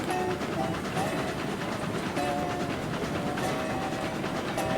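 Train rolling along rails in the railway game RailRoads Online, a steady continuous rumble with faint clattering and hiss, while a voice talks over it.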